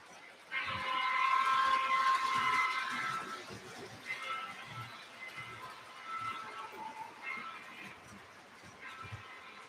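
A Conrail train rolls past with a rumbling, rattling passage and a sustained horn blast near the start, fading in and out as cars go by, with faint voices in the background.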